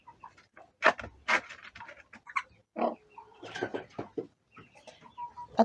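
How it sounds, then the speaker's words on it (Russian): A mother hen growls and clucks near her week-old chicks, in a string of raspy, irregular vocal bursts and low grumbles with short pauses between them, close and fairly loud. "Ты же курица, зачем как собака рычишь?"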